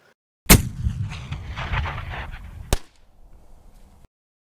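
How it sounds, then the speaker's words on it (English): A single loud gunshot fired at a playing card target, a sharp crack followed by a rumbling outdoor echo, then a second sharp report about two seconds later before the sound fades to faint background noise. "next we're going to shoot some cards"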